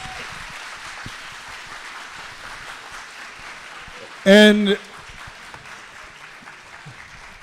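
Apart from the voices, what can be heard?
applause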